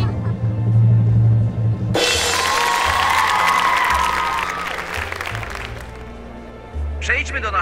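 A burst of loud crowd applause with scattered cheers from the video game The Movies starts abruptly and sustains for several seconds, then fades as talking resumes.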